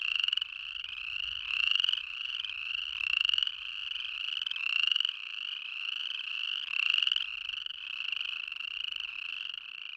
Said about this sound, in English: Sometimes the frogs will chorus from April all the way into July. And when they really get going, the sound can be intense,